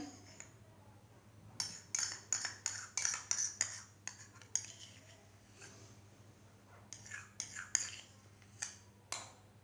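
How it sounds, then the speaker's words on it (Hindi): A spoon clinks and scrapes repeatedly against a bowl while aloe vera gel is added to coconut oil for a banana hair mask, in quick bursts of close, soft metallic taps separated by short pauses. "और इसमें मैं डालूंगी एलोवेरा जेल।"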